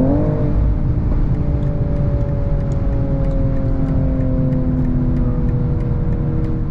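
A 2022 BMW M240i engine screams at high revs from inside the car, holding a loud, continuous strained tone that sags slightly in pitch over several seconds under steady road rumble.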